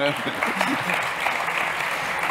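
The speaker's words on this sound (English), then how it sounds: "Come on, another applause for him" An audience claps loudly and steadily throughout, with voices and cheers mixed into the applause.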